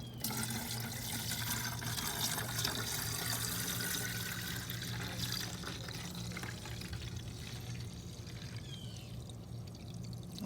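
Windshield washer fluid pours steadily into the reservoir of a 2017 Ford F-150 tow truck, a continuous close gurgling stream over a low engine-like hum.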